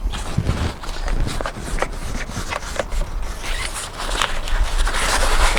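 A van insect screen's zipper is pulled in short, scratchy bursts beside the door, interrupted by rustling and handling noises, close up and fairly loud.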